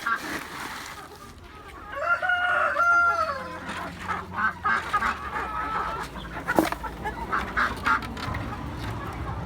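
Chickens on a poultry farm cluck and squawk nearby while being fed barley, with a rooster-like call early on, amid a busy farmyard of fowl noises.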